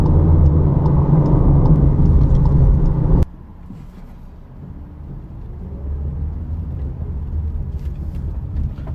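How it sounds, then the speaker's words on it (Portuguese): Inside a 2019 VW Jetta R-Line on an uneven road, a loud rumbling drone of road and tyre noise suddenly drops to a quieter steady hum that slowly builds again. "A gente andando num piso irregular aqui, evidencia bem o funcionamento da suspensão, realmente muito suave e agradável."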